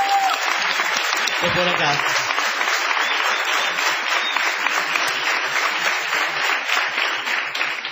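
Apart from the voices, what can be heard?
audience ovation applause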